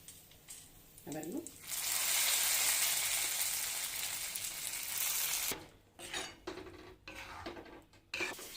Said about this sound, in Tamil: 2 மிளகா வச்சு செவக்க வறுத்தாச்சு. இப்போ அதில் ஆட் பண்ணிடலாம்.